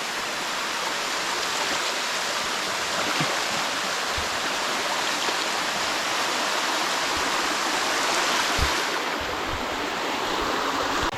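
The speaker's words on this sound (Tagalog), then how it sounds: "lakas po ng ulan" Heavy rain pours down at a fish pond in a dense, steady roar, loud and unbroken throughout, with a few faint thuds underneath.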